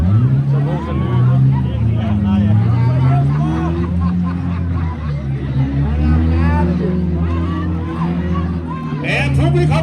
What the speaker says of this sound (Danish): Ja, publikum laver noget larm.